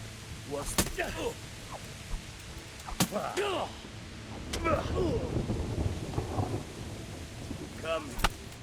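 Thunder rumbles and sharp cracks in the medieval RPG Kingdom Come: Deliverance Remastered, loud strikes at intervals over a stormy background, with in-game voices talking between the claps.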